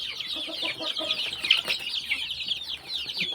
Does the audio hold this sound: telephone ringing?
no